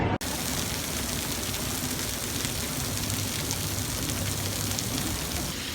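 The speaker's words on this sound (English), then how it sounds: "so it's pouring down rain" Pouring rain falls steadily outdoors, a dense, even hiss that holds constant throughout with no voices over it.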